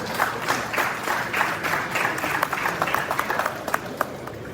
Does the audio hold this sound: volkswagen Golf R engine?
no